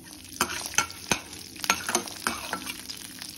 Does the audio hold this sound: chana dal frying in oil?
yes